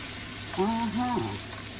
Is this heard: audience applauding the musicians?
no